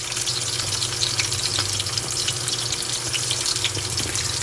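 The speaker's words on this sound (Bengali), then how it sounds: "অল্প পরিমাণ পানি দিলাম।" A little water is poured into a pan of spiced cauliflower curry, giving a steady close splashing hiss over a faint sizzle, with no talking.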